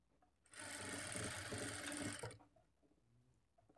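A sewing machine runs steadily for about two seconds, stitching a plain blouse along a marked line, close and fairly quiet, starting and stopping cleanly with no talk.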